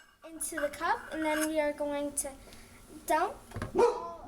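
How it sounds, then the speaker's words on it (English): A dog named Bella barks several times over a voice in a kitchen while peanut butter is scooped, the barks sharp and close, mixed with talking. "Sorry, that was my dog Bella."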